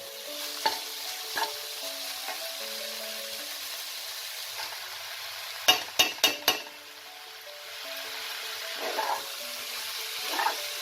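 Drained moong dal and dalia tipped into a hot pan for khichuri, a low sizzle under a few quick clinks and scrapes of a spoon stirring, with softer stirring and faint sizzling continuing between them.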